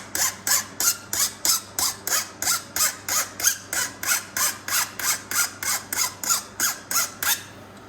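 Hand file stroking across a worn Stihl MS271 chainsaw chain to remove a burr, about twenty evenly paced rasping strokes close up with no talking.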